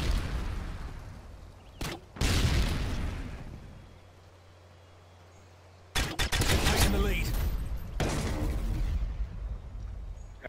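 Gunfire from a video game battle on the Wasteland map comes in loud bursts and sustained volleys with a brief lull between them, close and dense.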